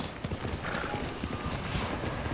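A galloping horse in the Ghost of Tsushima video game, rapid hooves pounding close and continuously under a dense game soundscape, with a brief neigh rising near the middle.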